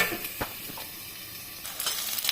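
Eggplant pieces frying in oil in a kadai for a Bengali fish dish, giving a steady close hiss and sizzle with a few soft stirring scrapes, short and continuous with no voices.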